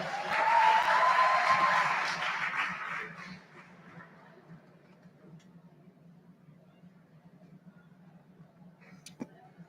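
Applause from an audience at a school Model UN event, a broad burst of clapping that swells for about two seconds and then fades away, leaving a quiet hall with a faint low hum.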